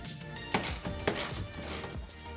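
A hand ratchet clicks in a few short bursts while loosening the 16mm seat belt bolt inside a Porsche Cayman S 987, quiet and close, with a brief metallic clatter and no talk.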